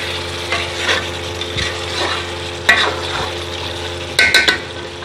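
Chicken stirred and frying in masala in a pan, a steady close sizzle broken by scraping stirs and a few sharp spatula clinks against the pan near the end.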